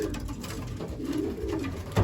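A racing pigeon in a breeding loft coos softly and steadily in low, murmuring phrases against faint background noise, with a brief louder rustle at the end.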